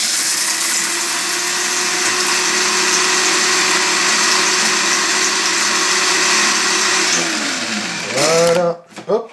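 Motorized mixer or blender whirs steadily and loudly as broken, recycled pastel pieces are blended with water, running nonstop for about eight seconds before winding down and stopping, with a few clattering knocks at the end.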